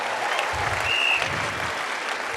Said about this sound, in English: How about a round of applause for Tucker Carlson for being here and doing this, everybody?